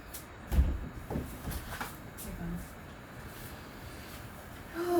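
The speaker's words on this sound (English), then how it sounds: "I opened the door." A door opens with a solid knock and rattle near the start, followed by softer shuffling and a low room hum indoors.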